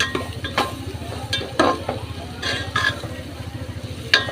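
Masala spices sauté in oil for sundakkai kuzhambu, a close, steady sizzle broken by repeated scraping stirs of a spoon against the pan.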